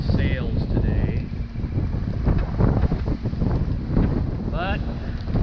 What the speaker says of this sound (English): we're motor sailing to our first waypoint